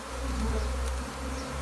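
A honeybee swarm buzzes around a skep, a dense continuous drone that holds steady throughout, near and full, with no voices.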